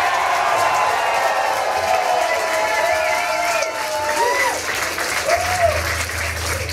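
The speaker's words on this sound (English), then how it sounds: "Give the White Wolf a large round of applause." A rock club audience at the Black Cat applauds and cheers for the White Wolf, sustained loud clapping with whoops and whistles rising over it.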